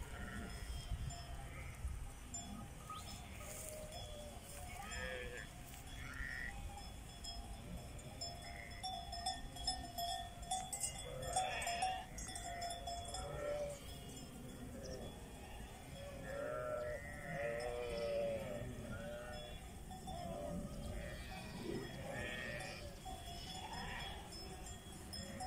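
A flock of sheep near an old ancient castle at the edge of a village bleats in scattered, overlapping calls, faint and fairly distant against soft outdoor background noise.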